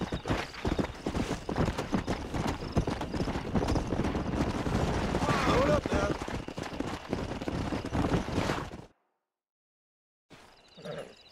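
A stallion's hooves pound steadily in the Red Dead Redemption video game, dense galloping clip-clop with a neigh partway through, before a brief silence and a faint return of sound.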